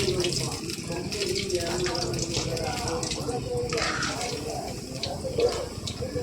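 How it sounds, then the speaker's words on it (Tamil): Cauliflower pakoras fry in hot oil with a steady, dense hiss and crackle that runs unbroken throughout, close up. "நல்லா ஃப்ரை ஆகிட்டுருக்கு."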